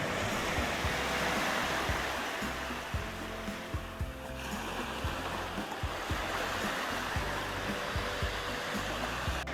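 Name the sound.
ocean waves, seen from a ferry off Andøya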